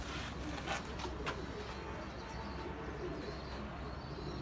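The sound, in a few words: pigeon cooing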